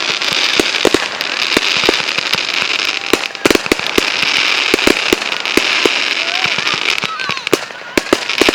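Fireworks for Canada Day burst and crackle continuously, with sharp repeated bangs and pops over a dense hiss of sparks, while a crowd murmurs and cheers underneath.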